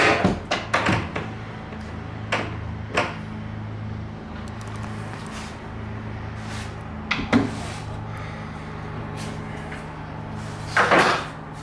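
A sink cabinet is shifted during a door installation, giving a series of close wooden knocks, bumps and scrapes, with clusters at the start and a louder clatter near the end.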